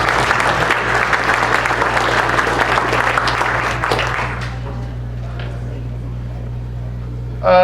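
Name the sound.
applause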